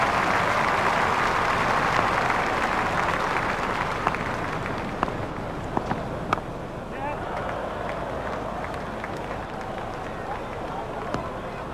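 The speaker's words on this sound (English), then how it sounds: "The crowd are standing to applaud him." A crowd in a cricket video game applauds a batsman reaching fifty with steady, sustained clapping and cheering throughout, with a few sharper claps standing out.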